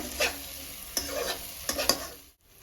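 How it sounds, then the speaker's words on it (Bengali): Mushrooms are stirred into fried masala in a pan, a few scraping stirs over a steady low sizzle, close and fairly quiet, then a brief drop near the end. "মশলার সাথে মশরুমটা ভালো করে মিক্স করে নেব দেখো মিক্স করে নিচ্ছি"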